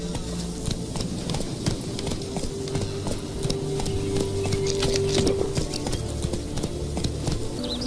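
Roach, Geralt's horse in The Witcher 3, gallops with a steady run of hoof clip-clops, close and fairly loud against faint game ambience, with a short tonal whistle partway through.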